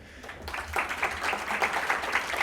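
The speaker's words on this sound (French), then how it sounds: "on peut l'applaudir" Audience at a hackathon closing ceremony in Lyon breaks into applause, starting after a brief pause and settling into a steady, moderately loud patter of many hands clapping.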